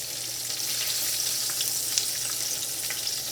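Appetizers sizzle in a frying pan with a steady crackling hiss and small pops, close and continuous, with no talking.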